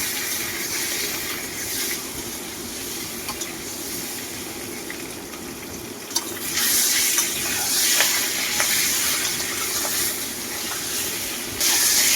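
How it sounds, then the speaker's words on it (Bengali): Duck eggs frying in hot mustard oil, a steady crackling hiss and sizzle throughout that swells louder after about six seconds and again near the end, with no voices. "এবার সর্ষের তেলের মধ্যে সবার প্রথমে হাঁসের ডিম, তারপরে আলুটা ভালো করে লালচে করে ভেজে তুলে নেওয়া হবে"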